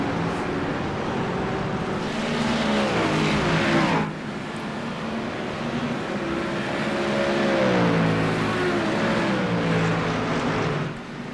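GT3 race cars lapping the Red Bull Ring in an iRacing league race, several engines droning loudly with rising and falling revs through gear shifts and corners, a steady close, layered roar.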